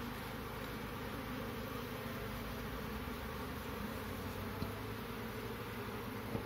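Honey bees buzz steadily and continuously around an open hive during an inspection on a sunny day, a dense close swarm drone with no speech.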